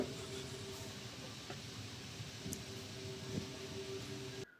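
A MEMU passenger train pulls out of Madhuranagar station on the Narasapuram–Vijayawada line, heard as a steady, fairly quiet rumble with a faint hum and occasional light clicks before it cuts off abruptly.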